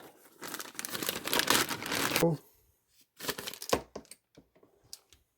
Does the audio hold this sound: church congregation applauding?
no